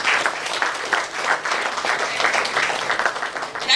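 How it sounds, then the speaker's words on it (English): Audience applause at a masterclass and book launch during a business conclave, a dense sustained round of many hands clapping, fairly loud and steady throughout. "That was a louder round of applause."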